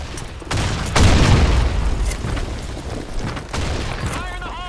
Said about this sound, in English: Grenade. Grenade. Fire in the hole.